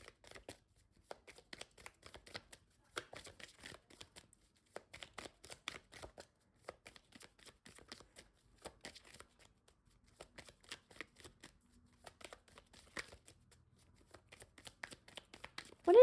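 Tarot cards are shuffled by hand in repeated soft, riffling bursts of papery flicks and slaps, close and quiet, with short pauses between rounds and no one talking.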